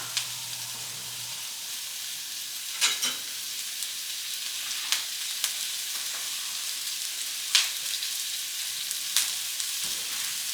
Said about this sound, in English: Start sauteing all these veggies here.